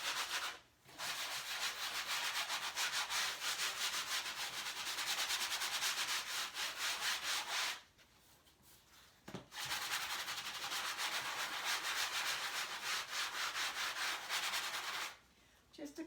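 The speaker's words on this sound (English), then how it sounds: "So I'm just going to go ahead and sand it down a little bit." Hand sanding of a canvas surface, a steady scratchy rubbing that runs in long even stretches, broken by two brief pauses, close and fairly quiet.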